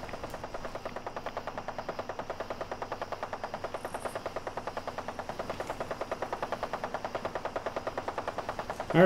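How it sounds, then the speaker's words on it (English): Rapid, evenly spaced gunfire from the Fallout 4 video game, a steady automatic rattle heard at a moderate distance for about nine seconds, ending in a louder burst. "Who's opening fire on who?"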